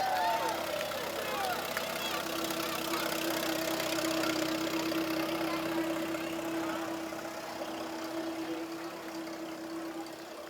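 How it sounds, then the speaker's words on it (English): An antique tractor engine chugs steadily at a low idle in a Christmas parade, with a rough mechanical knock and a humming tone, fading slightly toward the end. "He's driving his antique tractor through the parade."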